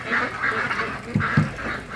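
Peking ducks on a duck farm in Porac, Pampanga, with a flock of about 84 breeding birds, give repeated nasal quacks and honks. The calls are steady and fairly close, with a couple of louder low calls near the end.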